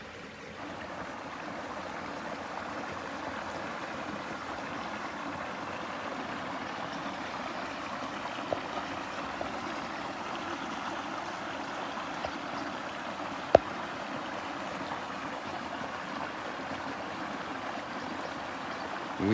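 Mississippi River water flowing steadily alongside pumps running full-time to clear floodwater, a continuous broadband rush with no pauses, one brief sharp click partway through.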